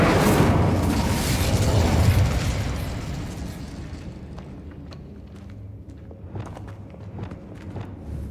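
A Confringo fire spell explodes in Hogwarts Legacy with a loud, booming blast that rolls off into a long fading rumble, followed by scattered faint pops and crackles.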